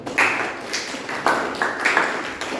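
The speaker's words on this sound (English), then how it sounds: "A big applause for all those who have participated" A Toastmasters meeting audience claps for the table topics participants, a steady indoor round of applause with a few sharper, louder claps standing out.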